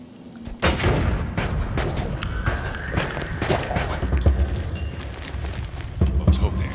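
Explosions and heavy booms from a video game sound in dense, repeated bursts alongside gunfire-like cracks, with a continuous rumbling battle din and voices underneath.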